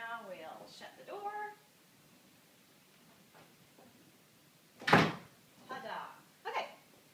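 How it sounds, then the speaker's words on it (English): A door is shut indoors during a home workout, one sharp loud thud near the middle followed by a couple of softer knocks, with people talking before it. "And now we'll shut the door."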